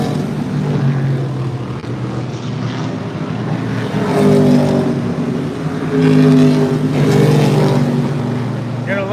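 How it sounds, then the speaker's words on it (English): Cars passing on a race track in Monterey, engine roars swelling and fading in two or three passes over a steady background rumble, at moderate distance. "Gonna look at the cars going by on the track"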